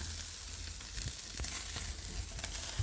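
Pork loin and chicken thigh sizzling on a barbecue grill, a steady, dense hiss and crackle with soft pops throughout, close and even, with no talking.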